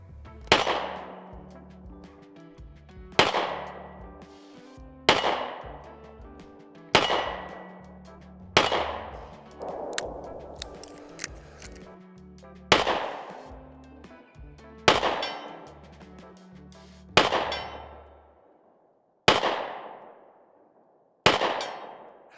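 Smith & Wesson 442 revolver fitted with a Shield Arms R.O.C., fired at targets at 50: a steady series of about ten sharp, loud reports, each followed by a ringing metallic decay.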